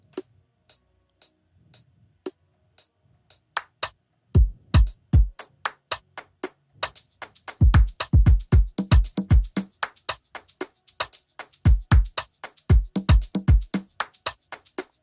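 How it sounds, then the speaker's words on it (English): A sampled conga drum pattern plays within a produced beat, sparse hits at first, then a dense fast rolling groove of deep and bright strokes, loud and close with no talking. "And then we also have this conga here."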